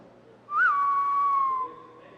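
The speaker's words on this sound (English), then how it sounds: "a somewhat reminiscent whistle" A single reminiscent whistle from McCree's Deadeye ultimate in the Overwatch video game rises briefly in pitch, then holds a clear, steady tone for about a second before stopping, alone and close.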